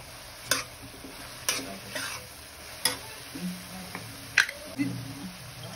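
Spoon stirring chicken keema with ground cumin and garam masala in a pan, giving soft intermittent scrapes and clicks over a low sizzle, close and moderately quiet.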